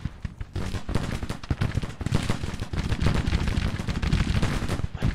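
Dense, continuous battlefield gunfire from the Civil War strategy game Grand Tactician, with rattling musket volleys and deep booming artillery blasts layered together at steady high loudness for the whole stretch.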